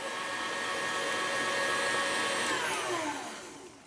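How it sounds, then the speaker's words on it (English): Electric mixer on a fast setting whisking butter and praline paste into crème mousseline, a steady loud whirring drone that holds for several seconds, then shifts pitch and fades slightly at the end. "add 200 grams of butter and 200 grams of praline paste to the mousseline. Then whisk in on a fast setting."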